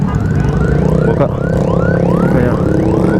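A loud, continuous ambulance siren wails up and down in rapid repeating sweeps, close by and dominating the soundscape, on a night road in Makassar.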